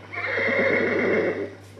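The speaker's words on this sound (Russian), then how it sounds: "конь ваш идет" A horse neighs in one sustained, wavering whinny of under two seconds, loud and close, with faint hoof clops beneath and no talk.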